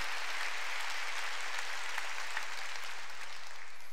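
A church congregation applauds during a Wednesday worship service, a soft, dense wash of many hands clapping, distant and even throughout with no speech over it.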